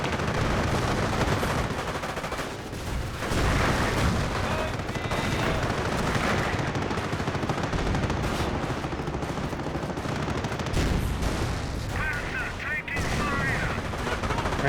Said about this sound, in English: Rangers still firing away